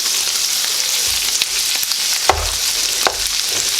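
Chicken fried rice frying in butter, a loud steady sizzle close by, with occasional stirring scrapes and a few thumps of a spatula breaking up the butter.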